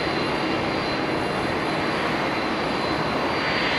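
Finnair jet airliner arriving at Haneda, a constant broadband engine roar with a faint high whine, steady and fairly close, no voices.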